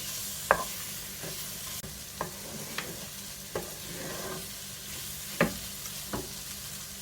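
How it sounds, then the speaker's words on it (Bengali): Flour cooks in a pan with sautéed mushrooms for cream of mushroom soup, giving a faint, quiet sizzle broken by several sharp scraping taps of a spoon stirring. "এর মধ্যে দিয়ে দিচ্ছি ফ্লাওয়ার, দিয়ে কুক করে নেব 1 মিনিট"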